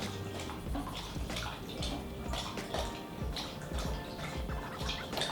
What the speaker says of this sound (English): We got the dog drinking his water.